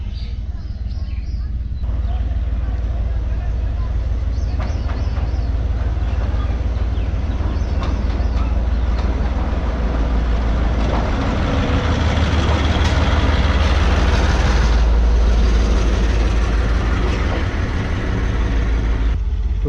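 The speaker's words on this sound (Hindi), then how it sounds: "टर्न टेबल से होकर लोकोमोटिव आ चुका है।" A locomotive in Pakistan rolls in off the turntable toward the head of a Mohen Jo Daro passenger train in Sindh to couple up, a loud, low, rumbling engine drone that builds steadily throughout.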